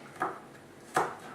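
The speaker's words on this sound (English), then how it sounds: "Is that how garlic's cut up?" Two separate knife chops through garlic on a board, spaced well apart, each a short crisp thud with some ring, quiet in between.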